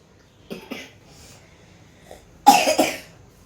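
Two children compete at coughing, giving a pair of short quiet coughs followed by a louder burst of two or three rough coughs close to the mic, with no talking.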